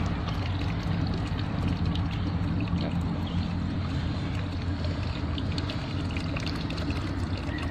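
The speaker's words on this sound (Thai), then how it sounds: "น้ำส้มไหลแรงขึ้นฮะช่วงช่วงเวลานี้ ไหลไหลไหลแรงมาก ทบไม่ขาดสายครับ" Wood vinegar pours in a steady, unbroken stream from a PJJ 2in1 Super Sun smoker kiln, a dense continuous wash of liquid noise held at an even level throughout.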